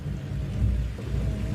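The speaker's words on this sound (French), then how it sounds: "Voyons, mais le tonnerre, c'est pas dangereux." Low, rumbling thunder rolls steadily through a rainstorm, loud and sustained with rain hissing beneath it and no voices.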